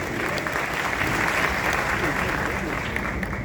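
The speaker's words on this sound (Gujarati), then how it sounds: "આપ સૌ માટે જોરદાર તાળીઓ થઈ ગઈ" Steady, dense applause from an audience at an awards function in Ahmedabad, loud and continuous throughout with no pause.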